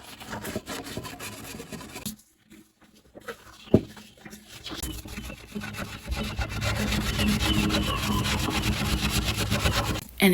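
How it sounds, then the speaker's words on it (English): Wooden furniture molding is scrubbed with Krud Kutter cleaner, giving close, rhythmic rubbing and rasping strokes that pause briefly and then resume more steadily and vigorously. "making sure to pay special attention to scrubbing at that molding because it's so easy for grime to hide in there"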